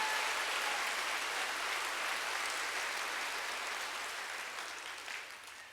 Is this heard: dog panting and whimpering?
no